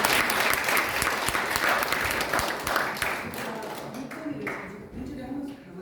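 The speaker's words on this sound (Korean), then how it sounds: "박수 한번 주세요" Audience at a local government administration lecture applauds, a full burst of clapping that gradually thins and fades toward the end.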